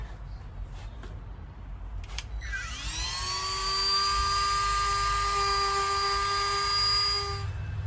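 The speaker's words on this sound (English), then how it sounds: "I'm gonna use a Dremel and just clean up the sharp edges off the paint here." A Dremel rotary tool spins up to a steady high-pitched whine while grinding sharp paint edges on an aluminum Jeep door hinge area, loud and continuous for several seconds before winding down.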